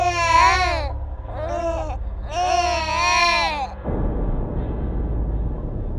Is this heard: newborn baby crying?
yes